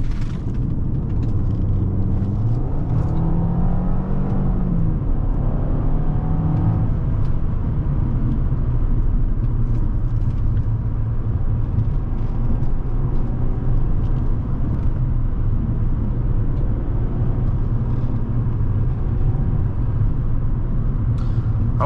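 A 2012 Audi A4 2.0T Quattro driven through curves, heard from inside the cabin: a constant low engine and road rumble with a brief rising engine note early on, then an even drone.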